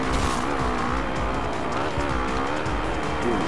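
A motocross bike in MXGP 2 accelerates hard out of a tricky corner at the Nakhonchaisri track in Thailand, its engine a dense, steady roar that stays loud throughout with no pause.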